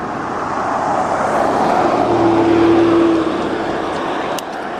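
Road traffic on Lochside Drive heard from a bicycle, a loud broad whoosh of a car swelling and fading past close by over several seconds with steady wind-like rumble beneath.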